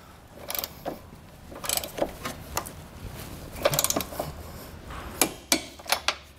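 A torque wrench tightens the bolts of a Draw-Tite Max-Frame trailer hitch receiver on a 2021 vehicle, giving a quiet series of close ratcheting clicks in short, uneven bursts.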